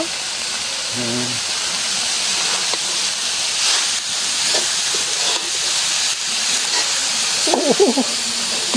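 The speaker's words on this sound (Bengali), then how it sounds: "শাক কষাই নেওয়া লাগবো" Grass pea greens sauté in a pan, a steady hissing sizzle with soft stirring swells, with brief voices murmuring in the background at moments.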